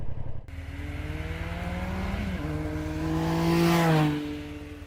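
Ducati Multistrada V2S motorcycle riding on the road, its engine droning steadily and rising in pitch through a gear, swelling louder around the fourth second before easing off, with no talking.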